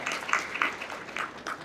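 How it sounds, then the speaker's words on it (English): Audience applause for a state representative at a small business awards reception: a soft, steady patter of clapping from a crowd, fairly distant and low in level, lasting under two seconds. "how about a round of applause for the representative?"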